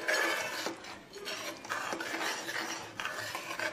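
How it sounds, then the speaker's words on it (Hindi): Spice masala for mutton kofta curry frying in a pan while a metal spoon scrapes and stirs it in steady repeated strokes, close and continuous over a soft sizzle, with no talking. "मसाले को हम अच्छी तरह से फ्राई करेंगे।"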